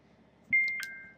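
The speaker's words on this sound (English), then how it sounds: "sorry about my phone going off" A mobile phone goes off with a single bright electronic chime that starts abruptly and holds a steady, slowly fading tone for under a second, loud against a quiet background during a hockey game analysis.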